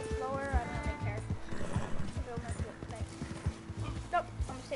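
A horse's hooves clip-clop steadily off road in Red Dead Redemption 2, with a neigh at the start, moderately loud under a player's talking.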